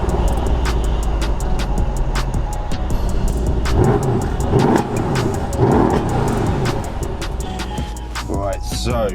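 A 700 BHP Mercedes E63 AMG drives along, its engine and road noise a steady, loud drone heard from inside the cabin, with a voice talking over it.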